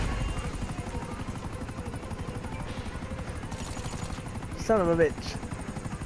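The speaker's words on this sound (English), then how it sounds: "I got choppers coming" Helicopters thrum steadily through a video game firefight, rotor chop continuous for the whole stretch with brief louder bursts near the end, while players talk over it.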